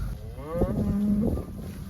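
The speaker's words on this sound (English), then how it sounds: "Okay, there's the cows." A cow on a Kansas farm lets out a single loud, drawn-out moo close by, rising and holding in the middle of the moment over faint outdoor background.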